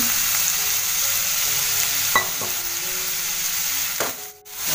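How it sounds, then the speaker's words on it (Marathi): Onion and garlic frying in hot oil in a wok, a steady dense sizzle filling the whole stretch, with a few clinks of stirring and the hiss briefly dropping near the end. "तेल चांगलं आपला गरम झालं आहे. तर सगळ्यात आधी मी याच्यामध्ये टाकते कांदा."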